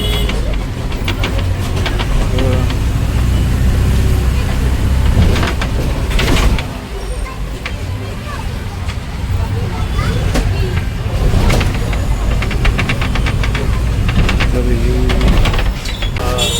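A steady engine rumble and road noise from inside a moving bus bound for Panvel on a narrow road, with rattles and thumps along the way and people talking over it.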